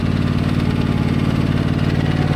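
A Stiga Tornado 4108 HWL ride-on lawn mower engine runs steadily close by, a loud, even mechanical drone with a low rumble and no talking.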